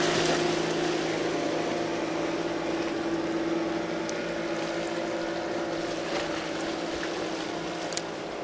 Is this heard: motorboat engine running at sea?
yes